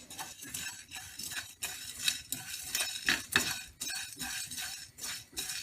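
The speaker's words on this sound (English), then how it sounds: "I'm going to dry roast my black pepper, my cumin and fennel seeds" Black pepper, cumin and fennel seeds dry roasting in a pan on low heat, with repeated scraping and clinking strokes of a utensil against the metal in an uneven rhythm, close and fairly quiet.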